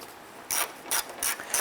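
A ratchet tightens a headlight assembly bolt on a 2007-2012 Nissan Versa, giving four short, crisp clicking bursts in a steady rhythm, close up with no talk.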